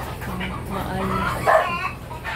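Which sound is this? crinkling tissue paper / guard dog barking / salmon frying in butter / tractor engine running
guard dog barking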